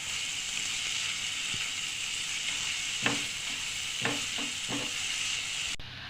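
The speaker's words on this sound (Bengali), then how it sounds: "দিয়ে ভালোভাবে আদা রসুন পেঁয়াজটা আমি কষিয়ে নেব" Ginger, garlic and onion sauté in a hot pan with a steady sizzle, broken by a few soft stirring scrapes near the middle and end, close and moderately loud with no talking.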